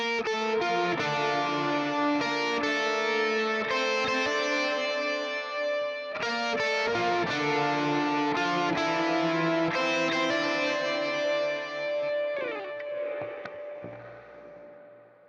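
A sustained electric guitar lead rings through an analog stereo delay with diffusion at 100%, its repeats blurring and smearing into a diffuse wash, fading out at the end.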